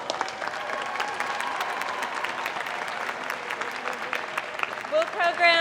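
Audience applause at a college diploma and awards ceremony, steady clapping from a large crowd sustained throughout, with a voice and some tonal sound rising over it near the end.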